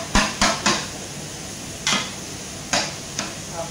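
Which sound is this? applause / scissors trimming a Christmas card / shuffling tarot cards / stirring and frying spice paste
stirring and frying spice paste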